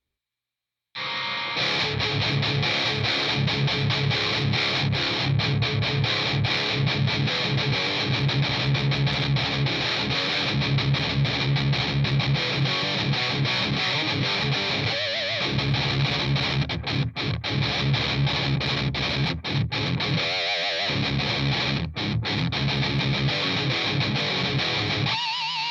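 Distorted electric guitar played through a Laboga Mr. Hector amplifier with the bright switch off, a loud, dense, sustained riff running continuously after a brief silent start, with a few short breaks in the playing.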